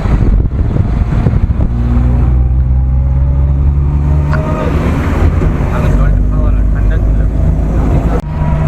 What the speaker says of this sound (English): So after waiting for 2 hours, this guy finally starts the vehicle.